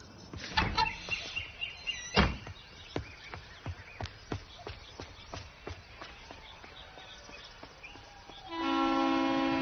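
At a railway station, a train passes with a run of regular rhythmic clacks from the wheels over the rail joints. A horn blast then sounds, steady and sustained, near the end.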